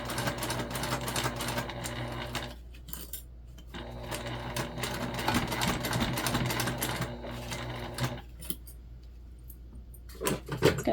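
A sewing machine runs in steady bursts as it stitches backpack fabric on a modified Lindsport Mini Backpack, its rapid mechanical whir pausing briefly twice before resuming, close and clear with no talking.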